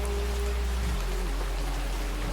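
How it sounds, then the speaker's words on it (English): Rain falls in a steady, dense patter of raindrops, an even wash of hiss that holds constant throughout, with no voices. "For in the gentle patter of raindrops, we find the truest symphony of life."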